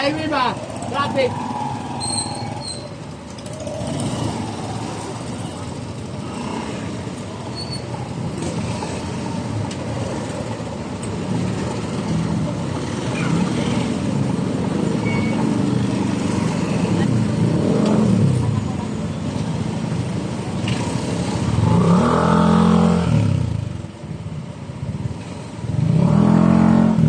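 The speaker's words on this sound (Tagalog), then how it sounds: "Daming mga sasakyan, no?" Heavy highway traffic in the Philippines, with car and motorcycle engines rolling past in a steady, continuous wash and a few louder passes near the end, beneath frequent casual conversation.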